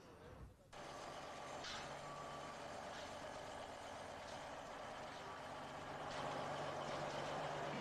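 Faint reversing beeps repeat at a slow, steady pace from a fleet of trucks hauling racing cars and team gear at the 1983 Canadian Grand Prix in Montreal, heard over a constant rumble of engines and background noise.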